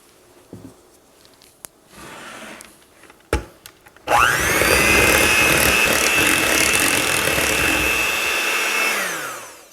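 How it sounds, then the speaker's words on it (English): A blender whirs loudly and steadily through a keto pumpkin pie fat bomb mixture after some quiet clinks and taps, running several seconds before winding down. "I'm going to scrape down the edges and give it one more blend through."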